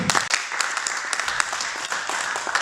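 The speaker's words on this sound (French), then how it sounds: "je vous remercie d'applaudir" An audience at an association meeting applauds, dense steady clapping from many hands filling the room for a few seconds without talking.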